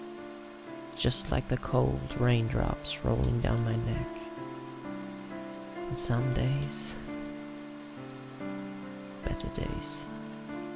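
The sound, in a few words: rain falling, sound effect in a creepy story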